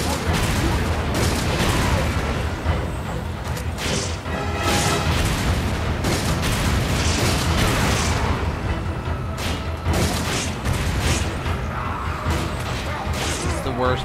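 Machine gun fire and grenade blasts in Resident Evil 5, with dense rattling bursts and heavy booms crashing repeatedly over a loud, chaotic game soundscape, while a player talks over the action.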